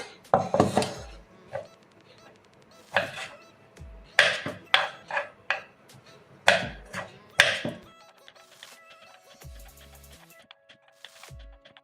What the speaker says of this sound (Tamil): இப்போ கிரேப்ஸ் கட் பண்ணிக்கலாம்.